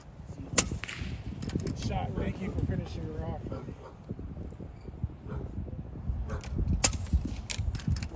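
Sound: gunshot while hunting iguanas

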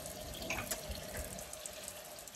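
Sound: water running from a sink faucet

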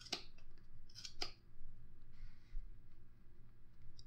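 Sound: scissors cutting yarn for a gnome's beard

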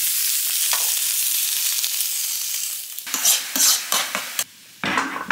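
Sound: dry frying tofu in a pan

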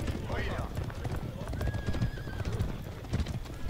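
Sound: horses galloping in video game

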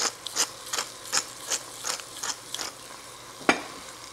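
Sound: pepper mill grinding black pepper

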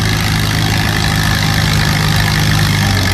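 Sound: antique tractor engine running during a tractor pull

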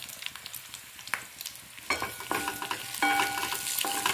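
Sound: stirring turmeric into onions frying in a pan

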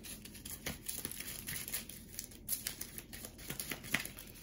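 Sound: shuffling a deck of board game cards

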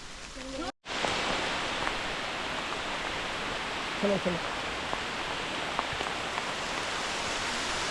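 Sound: rain in forest

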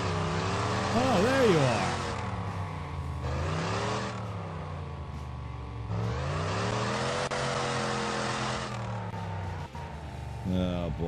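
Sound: opponent car's small engine in Wreckfest video game

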